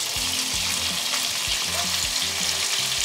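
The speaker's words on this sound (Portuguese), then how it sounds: "Já vou colocar a cebola pra dourar junto." Onion frying in hot oil to brown, a loud continuous close sizzle and crackle with scraping stirs of a utensil through it, no talk.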